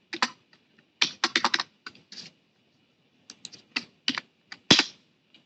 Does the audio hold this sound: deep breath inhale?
no